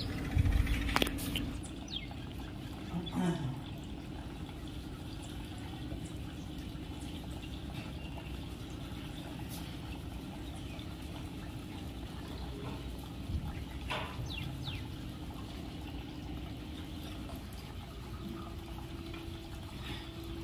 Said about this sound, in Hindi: सुबह सुबह चिड़ियों की चहचहाट की आवाज़ और जो प्रकृति का नेचुरल संगीत होता है